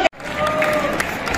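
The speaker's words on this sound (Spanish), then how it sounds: "Un aplauso" Parade crowd at a village festival clapping and cheering for a passing peña group, a brief burst of dense applause close by, with voices mixed in.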